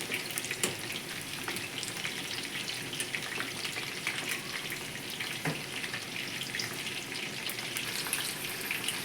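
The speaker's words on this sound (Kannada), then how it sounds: "ಎಣ್ಣೆ ಕಾಯ್ದಾದ್ಮೇಲೆ ಒಂದೊಂದೇ ಪೀಸಾಗಿ ನೀಟಾಗಿ ಹಾಕ್ಕೊಳ್ಳೋಣ." Chicken kebab pieces deep-fry in hot oil, giving a continuous soft crackle and bubbling hiss with scattered pops, fairly quiet and with no talking.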